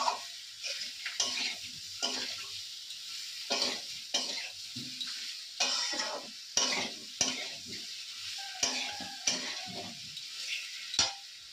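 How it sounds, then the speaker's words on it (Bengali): Potatoes being stirred and fried in a pan: a steady soft sizzle broken by repeated scraping strokes of a utensil against the pan, roughly one every second, close and clear. "এখন কষানো হবে আলুটা।"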